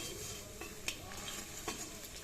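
Fish sits in hot oil in a pan, giving a steady, loud, hissing sizzle throughout with a couple of faint utensil clicks.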